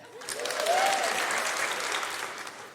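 A live comedy show audience in Adelaide gives a burst of applause, clapping swelling quickly and then tapering off over a few seconds, with a faint whoop in the middle.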